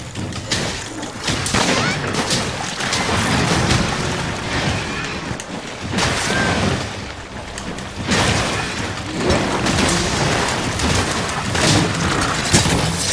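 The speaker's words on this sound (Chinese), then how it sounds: "他会把子弹撒在怪的身上，然后一次爆炸" Bullets bursting on a monster in Monster Hunter: World, a dense, loud run of booms and crackling blasts that rise and fall in waves without pause, with a voice faintly present.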